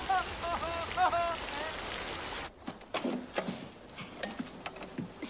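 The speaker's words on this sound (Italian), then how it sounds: "Oh, piove a catinelle, come Dio la manda" Steady rain hissing loudly at first with chirping birds, then cutting to scattered drips and patters on surfaces, quieter and uneven.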